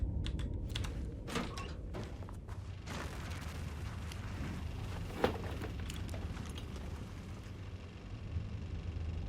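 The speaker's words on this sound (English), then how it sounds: "ignoring the scary automated typing devices" Automated typewriter-like devices clack in Alan Wake II, a rapid run of sharp keystrokes over a low game rumble, with bursts of clatter that thin out toward the end.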